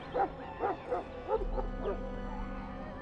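A Mabari war hound in Dragon Age gives a run of five or six sharp, evenly spaced barks close by, then falls quiet over a low rumble.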